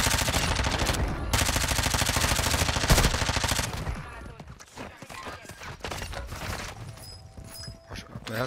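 Rapid automatic gunfire in a Warzone 2 battle royale match, dense and loud at first, then sparser scattered shots and thuds, with someone talking over it.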